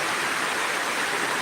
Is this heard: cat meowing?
no